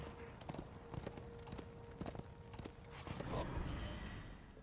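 Hooves clip-clop in a steady walking rhythm over a muffled background in the video game Darksiders II on Xbox 360, with a louder rustling swell near the end.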